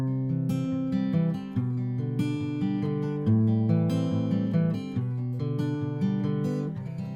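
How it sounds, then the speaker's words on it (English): Acoustic guitar played with a Travis fingerpicking pattern, the thumb alternating bass notes under steady plucked melody notes in a continuous, even rhythm, clear and close with no talking. "What we're about to learn is a classic example of something called Travis picking or alternating thumb picking."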